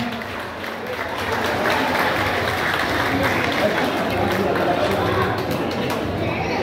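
An audience applauds at a live chamamé concert, a steady wash of dense clapping from a crowd, moderately loud and continuous throughout, with some chatter mixed in.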